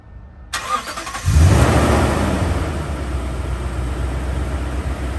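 A 2019 Toyota Tundra pickup engine started by a 12VoltSolutions remote starter turns over and settles into a steady loud idle, heard up close with no talking.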